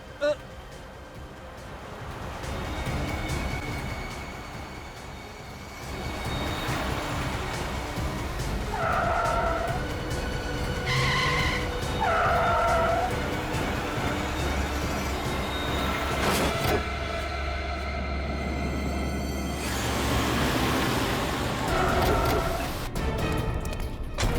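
A car driven recklessly makes high tire squeals in several bursts over a continuous engine and road rumble, with people talking over it.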